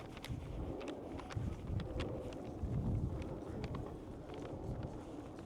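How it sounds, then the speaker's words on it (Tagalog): Strong, cold wind blusters across an open hillside near Mount Fuji, a steady rough roar buffeting the microphone for the whole stretch, with faint crunching steps underneath. "Lakas ng hangin."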